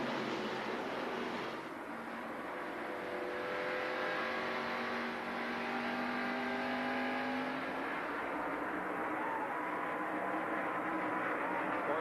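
Stock cars at the 1990 TranSouth 500 race off turn four, nose to tail, a steady roaring engine drone with rising and falling pitch as the pack passes, heard from a distance without commentary.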